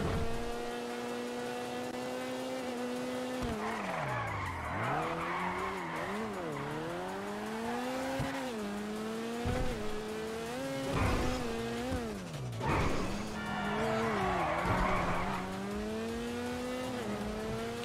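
Ubermach Sentinel Classic, an old BMW-style car in GTA Online, skidding with loud, wavering tire squeals over a steady engine drone, the pitch sliding up and down through repeated drifts, with no talk.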